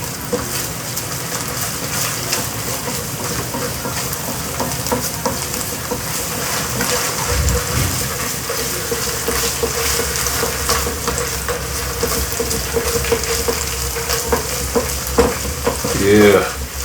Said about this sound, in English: just want to get that tomato paste toasted through